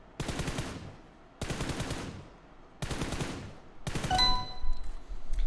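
Automatic rifle spray in PUBG Mobile, four rapid sustained bursts of gunfire, each roughly a second long with short pauses between, loud and close.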